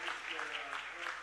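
Brief, faint applause from a crowd at a city council meeting, a steady patter of clapping heard from a distance.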